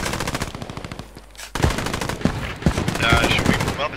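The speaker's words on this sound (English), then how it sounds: "Watch out, that machine gun, they're in the brick." A machine gun fires in rapid, evenly spaced bursts during a World War-style multiplayer battle game, loud and close, broken by a short pause, with other gunshots and speech mixed in.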